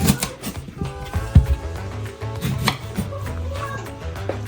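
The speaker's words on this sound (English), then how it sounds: "We're gonna start by cutting our plantain" A knife chops through plantain on a cutting board in close, loud, repeated thuds at an uneven, brisk pace, with a low hum underneath.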